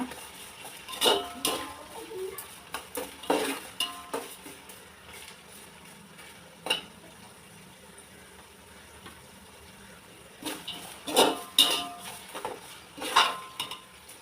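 Mint leaves being sautéed in a pan, heard as bursts of metal spatula scraping and clanking against the pan separated by quieter stretches with a faint background hum.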